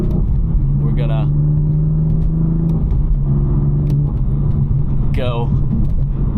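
Manual six-speed BMW F chassis engine pulling under acceleration, a steady loud drone with rising pitch and a shift around the midpoint, heard from inside with a person talking over it.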